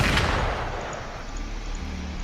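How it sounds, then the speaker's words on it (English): A single booming gunshot in the video game Wuthering Waves opens the clip, then rumbles and fades into a low ambient drone with no other sounds. "No, another gunfire."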